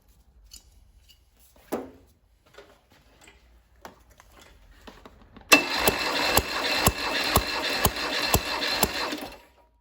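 After a few faint clicks, a 1978 Volkswagen Bus 2.0-litre engine cranks over steadily during a compression test with a rhythmic chugging pulse for several seconds, then stops.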